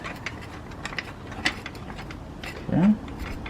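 A car jack is cranked by hand to lift a car for a tire change, giving a run of soft ratcheting clicks close by, ending in a short louder creak.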